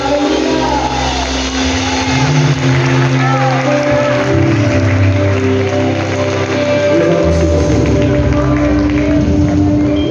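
A congregation at an evangelical church's women's service claps loudly and continuously, with sustained musical tones and voices mixed in throughout the whole stretch.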